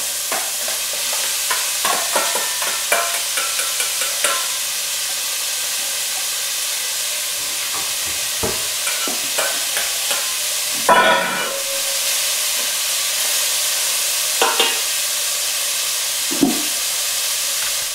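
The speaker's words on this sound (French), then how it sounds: "Donc là je laisse saisir en fait. Je vais y faire dorer un petit peu" Meat searing in a cocotte for a pepper tomato sauce, a steady frying hiss and sizzle with scattered crackles and a few stirring clanks, no talk.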